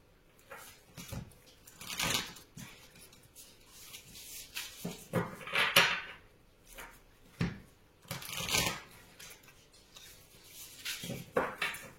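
Tarot cards being shuffled by hand: repeated soft papery riffles and slaps in irregular bursts, close and fairly quiet, with no talking.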